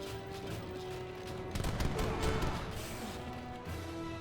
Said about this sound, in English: All volley there.